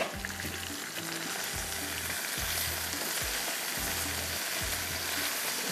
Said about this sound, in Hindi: सब्ज़ी हमारी फ्राई हो रही है यहाँ पर